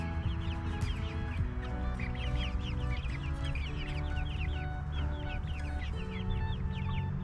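Hens and a rooster cluck and chatter outdoors, a continuous busy flock of overlapping clucks and calls over steady low background noise, no talking.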